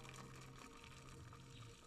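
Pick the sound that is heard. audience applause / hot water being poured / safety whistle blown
hot water being poured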